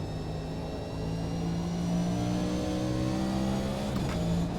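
A NASCAR Next Gen race car engine drones steadily and loudly on the Le Mans circuit, pitch climbing as it pulls through the gears toward third, heard from inside the cockpit with constant road and wind noise.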